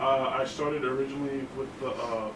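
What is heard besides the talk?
No everyday noise stands out behind the speech.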